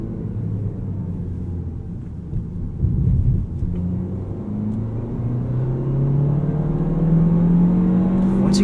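A 2019 Toyota Corolla XSE hatchback with a six-speed manual accelerates through the gears, its engine drone rising steadily in pitch as revs climb, heard close from inside the cabin.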